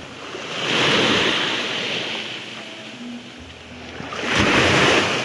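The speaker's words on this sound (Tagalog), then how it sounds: "Maalon yung dagat" Rough sea waves at high tide on a provincial shore, surf swelling loudly and receding in slow surges, close and unbroken, with wind noise and no talking.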